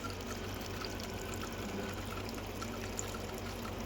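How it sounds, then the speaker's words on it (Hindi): Cold water poured onto a large pile of clothes being washed, a faint steady splashing trickle, close and continuous without talk. "पानी डाल रहा है ठंडे ठंडे"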